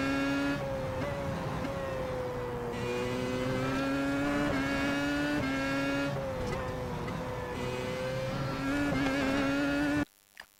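A Williams FW31 Formula One car's engine at Monza, a loud high-pitched whine whose pitch rises and drops through gear changes, continuous and close until it cuts off near the end.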